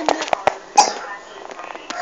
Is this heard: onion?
no